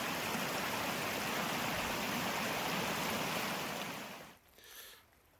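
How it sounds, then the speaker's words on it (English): Seasonal waterfall spilling over small miniature cascades beside a forest trail, a steady close rush of falling water that fades out near the end, with no talk. "this is a seasonal waterfall, so I don't believe it actually has a name"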